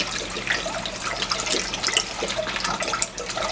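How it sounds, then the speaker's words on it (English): Tap water pours steadily into a pot for about 33.8 fluid ounces of water to make apple pie detox tea, a continuous splashing rush with small bright gurgles, close and fairly loud, with no one talking. "Go ahead, put the water in"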